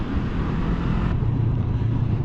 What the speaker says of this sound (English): The engine braking.